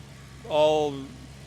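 A 2005 Maserati GranSport coupe engine runs with an even, quiet valve train and no knocks, giving a low steady hum under a brief burst of nearby talk.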